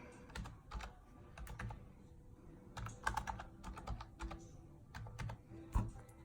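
Typing on a computer keyboard while filling in a seller's name in a form. Quiet, irregular clusters of crisp keystroke clicks come in short bursts with brief pauses between them, close and alone.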